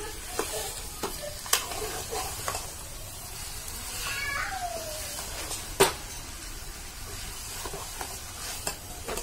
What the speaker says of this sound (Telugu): పీసులన్నీ మంచి చికెన్ అంతా ఆయిల్లో మంచిగా వేగాలి